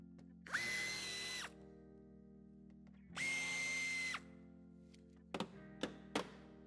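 Power drill removing bumper screws on a 2021 Audi Q4 e-tron: two loud, close whirring bursts of about a second each, followed by several short clunks and taps of parts, with no talking.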